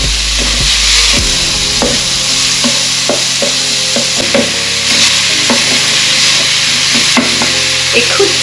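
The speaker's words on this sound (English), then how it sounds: "cook it until it's soft, stirring occasionally with a spoon" Finely chopped onion cooks in a pan for soup, a loud steady sizzle with repeated clacks and scrapes as a spoon stirs it, close up and with no voices.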